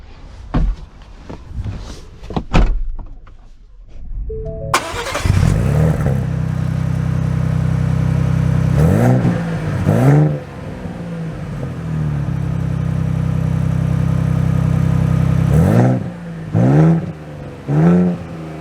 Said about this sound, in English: So setting off in the Bronco Raptor